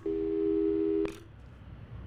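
A single steady electronic telephone tone from the Portal 2 video game holds for about a second and then cuts off abruptly with a click. Quiet background hum follows.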